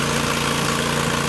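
A 2005 Allmand Bros TLB325 tractor loader backhoe idles steadily close by, its engine a constant low rumble with a faint vibrating hum and no talking over it.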